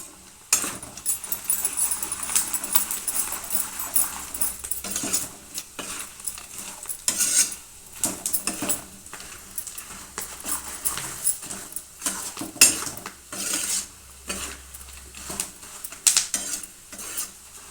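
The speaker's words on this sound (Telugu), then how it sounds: "కొంచెం రోస్ట్ అయ్యేదాకా బాగా ఎంపుకోవాలండి, అప్పుడు చాలా టేస్టీగా ఉంటాయి." Spiced puffed rice with salt and chilli being stirred and roasted in a pan for Rayalaseema karam borugulu, a steady dry rustling and scraping with spoon knocks against the pan, close and continuous without talk.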